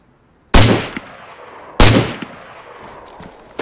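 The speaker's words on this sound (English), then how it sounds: "Shots from north as well." Two loud, sharp gunshots ring out in the DayZ video game, spaced over a second apart, each followed by a decaying echo, with near silence between them.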